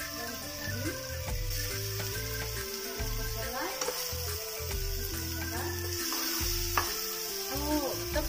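Onion, tomato, ginger and garlic frying and being stirred in a pan for a potato curry, with a steady sizzle and scraping stir strokes throughout, close and moderately loud.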